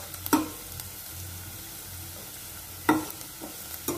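Onion and ginger fry gently in oil for pomfret curry, a soft continuous sizzle with two clear spoon-against-pan clanks and a few lighter taps, no voices.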